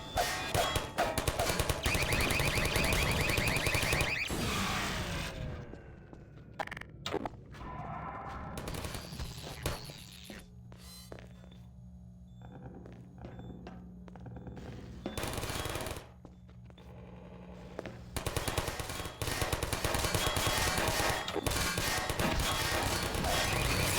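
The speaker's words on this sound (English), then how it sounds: "watching antlions get mowed down by turret fire was a great visual too" Combine turrets in Half-Life 2 mowing down antlions: long, loud sustained automatic fire fills the scene, easing into a quieter stretch with a steady mechanical hum and scattered bursts before heavy firing resumes.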